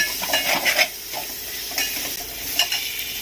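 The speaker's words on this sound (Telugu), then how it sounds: "ఇలా డీప్ ఫ్రై అయిన తర్వాత ఇంకా కొద్దిగా అల్లం వెల్లుల్లి పేస్ట్ వేసుకోవాలి. పచ్చివాసన పోయే వరకు వేపుకోవాలి." Ginger garlic paste frying in a pan after deep frying for a prawn and egg masala curry, a loud continuous sizzle broken by several quick stirring scrapes.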